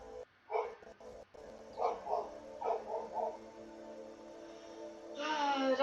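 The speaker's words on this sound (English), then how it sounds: "The dog out front is losing its mind." A dog barks out front in a short series of muffled, distant woofs under a quiet room hum, with a brief whine-like sound at the end.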